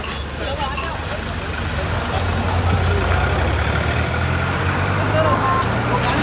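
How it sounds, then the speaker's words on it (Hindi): A truck is driven out over a constant heavy engine rumble and broadband roar lasting throughout, with people shouting and talking loudly over it. "आरिफ भाई, आरिफ भाई चलो निकालते जाओ, अरे गाड़ी भी निकालो, निकालो चलो, निकालते जाओ"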